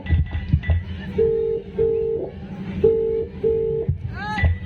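A phone number is dialed on a keypad, producing a sequence of four clear, evenly spaced beep tones over quiet indoor background noise, followed by a short chirping tone at the end.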